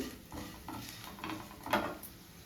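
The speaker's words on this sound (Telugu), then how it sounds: "పోపు మాడకుండా ఇలా కదుపుతూ వేయించుకుంటూ ఉండాలి" Soft scraping and light clinks of a spoon stirring a garlic tempering in a pan, with a faint frying sizzle underneath, close and quiet.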